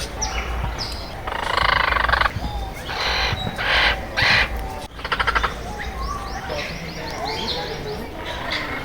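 Parrots and other birds in an eco park aviary near Hyderabad give loud, overlapping bursts of squawks and chirps that come and go against a constant outdoor hum.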